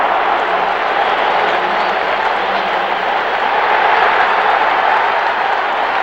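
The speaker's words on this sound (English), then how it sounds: "The crowd is up, as you would expect, a standing ovation." A packed baseball stadium crowd roars and applauds in a standing ovation after a home run, a dense, sustained wash of cheering and clapping that stays loud and even throughout.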